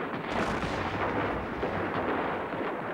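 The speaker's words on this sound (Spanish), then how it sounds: "De mañana escuchamos los cañonazos y los tiroteos." Dense, continuous rumbling of heavy gunfire and booming cannon blasts, steady and loud throughout with no pauses or voices.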